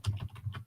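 Quick, light keystrokes tap on a computer keyboard, a brief faint burst of typing with no voices.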